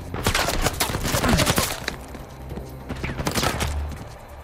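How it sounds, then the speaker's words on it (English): Bursts of gunfire aimed at Nathan in Uncharted 4 crack loud and close, with heavy volleys at the start and again later, and debris impacts scattered between them. "I'm being shot at."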